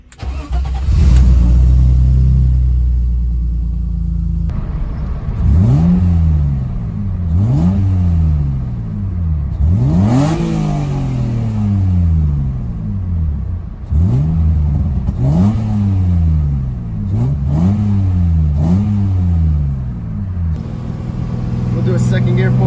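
A BMW M52 engine fitted with a lightweight M20 flywheel cranks and catches, then revs repeatedly. The pitch swoops up and falls back quickly in a series of loud, close blips over a rough idle.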